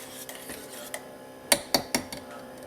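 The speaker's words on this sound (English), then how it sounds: "I will go in there with a whisk and mix it up to make sure all those lumps are gone" A whisk clinks against a pot as melted cheese is stirred for nachos, a few light scattered taps followed by several sharper metallic strikes close by, with no talking.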